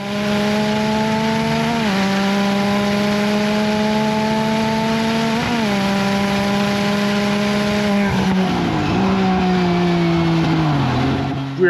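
A STRYKER UTV racing up the Pikes Peak hairpins produces a loud, close engine drone. Its pitch rises and falls as it revs, eases off and shifts through the bends, with no talk.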